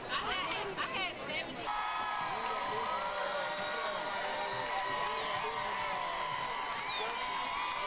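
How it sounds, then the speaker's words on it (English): Basketball fans cheer and chatter after a game, a crowd roar with whoops in the first seconds settling into a steady hubbub of voices and movement. "fans cheering"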